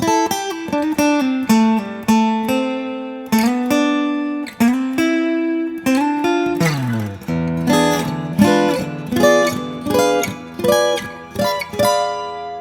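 A solo guitar plays a slow minor blues solo, an expressive line with sustained bent notes and sliding pitches over steady accompaniment, with no voices.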